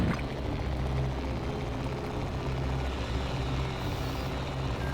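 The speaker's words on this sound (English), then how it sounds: "It's a lot of helicopters." Helicopters in the video game Urban Assault keep up a steady, dense rotor-and-engine drone that holds near and loud throughout, with no talk over it.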